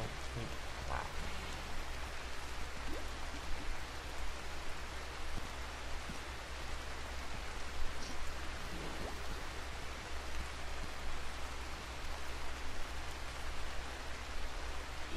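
Steady rainfall in the video game RimWorld, a constant broadband hiss of falling rain with a low rumble underneath, even and unbroken throughout without voices.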